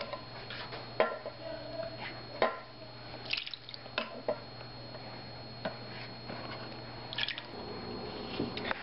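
Rendered lard ladled out of a crock pot: soft wet clinks and drips of a ladle against the pot, with occasional sharper taps, close and quiet over a low steady hum.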